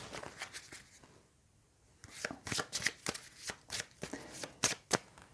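A deck of cards from the Mini Rogue board game is shuffled close by: a soft rustle gives way to a rapid series of crisp riffle snaps, loud and isolated.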